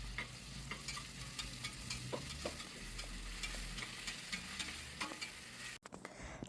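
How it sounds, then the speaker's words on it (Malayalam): Chopped onions stirred in hot sunflower oil in a pan, a steady soft sizzle with scraping stir strokes throughout, close and continuous with no talking, ending in a brief clatter. "സവാള ഒരു ലൈറ്റ് ബ്രൗൺ ആവുന്നവരെ ഇങ്ങനെ വഴറ്റിക്കൊണ്ടേ ഇരിക്കണം."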